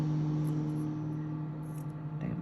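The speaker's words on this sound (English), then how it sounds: "Excuse my lawnmower, people next door." Steady droning lawnmower engine hum with strong low harmonics, continuous and fairly loud throughout, from a mower cutting grass next door.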